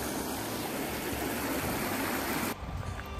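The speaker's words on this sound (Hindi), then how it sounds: "चोरल नदी हो गई है क्रॉस, देखिए" Choral River rushing steadily in a broad, loud wash, cut off abruptly near the end to a quieter rumble; no talking.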